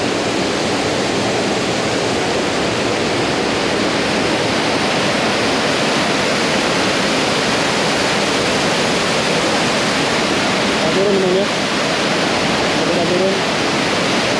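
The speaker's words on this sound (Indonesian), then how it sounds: "suasana di Suat Waterfall hari Minggu tanggal 16 Oktober 2022 seperti ini teman-teman ya, Suat Waterfall" Suwat Waterfall in Gianyar, Bali roars as a steady, dense wash of falling water, loud and unbroken throughout, with a brief faint voice near the end.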